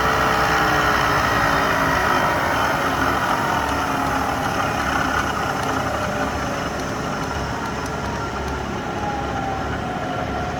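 A Microcut 5000VS 5HP Series 2 vertical milling machine runs its spindle at speed, giving a steady, loud mechanical whine and hum that holds constant throughout, with no talking.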